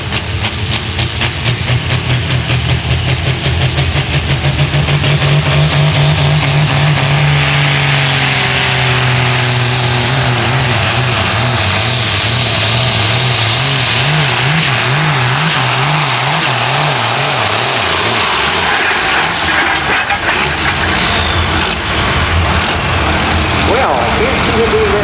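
A pulling tractor at a Snyder County truck and tractor pull in Selinsgrove roars loudly at full throttle, a continuous heavy engine drone with wavering pitch that stays strong throughout, with crowd and announcer noise mixed in.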